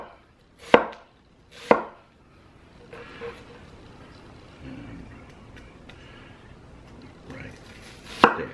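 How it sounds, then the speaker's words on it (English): An ENOKING Serbian chef knife, a 6.7-inch meat cleaver, makes two heavy chops on a cutting board, then quieter shuffling and light handling, and a final hard chop at the end, close and crisp with no talking. "Good rough chop."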